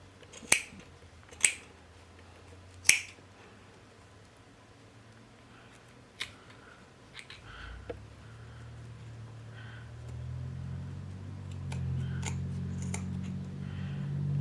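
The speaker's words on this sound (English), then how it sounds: "I'm going to cut away some of that bulk" Scissors snip away bulky fabric at a shirt collar near a button placket, a few sharp, quiet clicks with pauses between them, followed by faint rustling and a low background hum.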